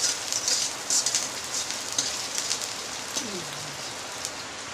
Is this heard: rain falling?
yes